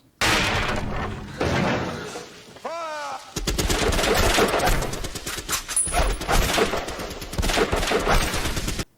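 Gunfire from a Doctor Who episode, with sharp repeated shots and rapid bursts mixed with loud action noise and a brief voice cry, all fairly loud and dense.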